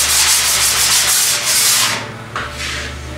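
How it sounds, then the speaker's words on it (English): A metal file is rubbed in long, rapid back-and-forth strokes across a dented car body panel, a loud, harsh, close scraping that eases briefly before resuming. "This is a metal file. And what this does is it's going to show me where the dent is"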